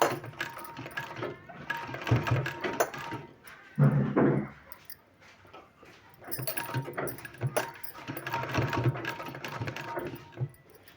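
Sewing machine stitching a palazzo pant, bursts of rapid mechanical clatter from the needle mechanism separated by short pauses and a thump, close and alone.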